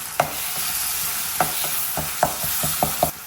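Onion, tomato and garlic sautéing in a pan, a spoon scraping and stirring in quick repeated strokes over a continuous close sizzle.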